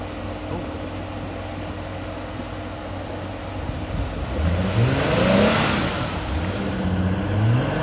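An off-road truck backing into deep, soft Florida swamp water, its engine droning steadily and then revving harder partway through, heard from nearby at moderate volume.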